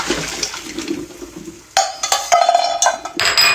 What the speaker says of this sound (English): I like to pour my hot water out